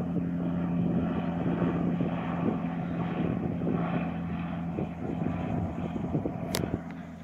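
A propeller plane, slow-flying like a DC-3-class aircraft, drones steadily at a distance at a German model-flying competition in Weilheim, its engine hum low and continuous, with a brief click near the end.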